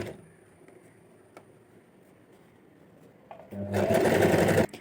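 Invisible zip being stitched on a sewing machine: after a quiet stretch with a few light clicks, the motor starts up near the end and whirs loudly and steadily.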